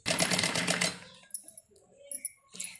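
Sewing machine stitching through fabric on buckram for a pleated girl's frock, a dense rapid needle chatter for about a second, then short separate bursts of stitching with pauses between them.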